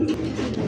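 Pigeons coo in a low, throaty, continuous murmur at close range, kept as pairs of fancy breeds such as German shields at a pigeon market.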